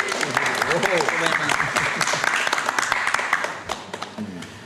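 A studio audience claps together, with sharp individual hand claps rising above a babble of voices talking and laughing throughout.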